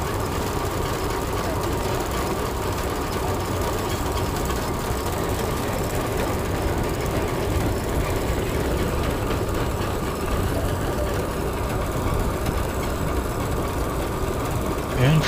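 A vintage steam engine at a threshing demonstration runs steadily at close range, a continuous low mechanical rumble with a faint rhythmic chuff that holds level throughout, with some talk mixed in.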